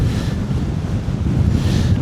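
Caribbean Sea surf and steady wind on a narrow shoreline path near Barranquilla, with the Magdalena River close by; continuous roaring wash of waves under heavy wind buffeting on the microphone, no talk.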